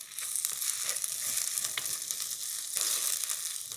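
Onions and green chillies fry in a pan with ginger-garlic paste for a gongura chicken dish, giving a soft, steady sizzle with a few light stirring sounds, fairly quiet and with no talking.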